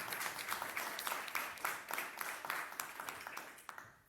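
Steady crowd applause with distinct, crisp clap hits welcomes Dr. Alejandro Tobalín Ahumada to a lecture on Bonampak's 80 years since discovery, holding at an even level before fading at the end.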